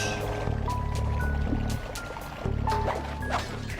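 Water gushes from a broken fire hydrant in Sly 2, a loud continuous rushing spray layered with tonal game music, with no talk.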